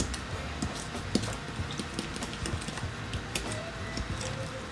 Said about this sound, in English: I'm just going to mix it up. I am going to just use a fork